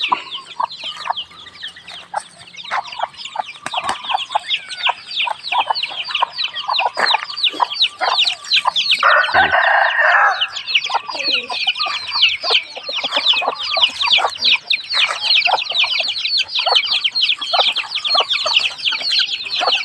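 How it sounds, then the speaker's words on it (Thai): Many chickens cluck and chatter close by in a busy, continuous chorus, with a rooster crowing briefly partway through. "เล่นกับเจ้าไก่ เจ้าเจี๊ยบ"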